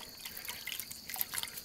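Clean water rinses down the inside of a hot Global Sun Oven, heard as faint, scattered drips and light splashes against steady low background noise.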